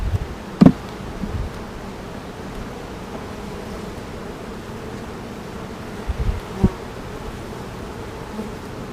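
Honeybees hum steadily around an open beehive, a soft continuous buzz filling the background with a couple of brief bumps and knocks.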